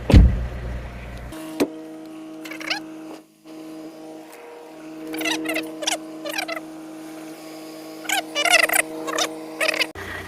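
Ventilation blower of a BMW 3 Series E46 320d 2.0 diesel running steadily during air-conditioning cleaning with a foam cleaner, a continuous hum that holds through the clip, overlaid with intermittent squeaky, chirping bursts and a few sharp clicks.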